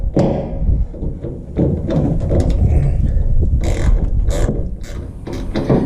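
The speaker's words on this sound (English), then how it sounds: "so now I'm just going to tighten everything down" Bolts being tightened down on a boat fuel tank being repaired for holes, heard as repeated close ratcheting clicks and mechanical taps with occasional dull thuds, steady and fairly loud throughout.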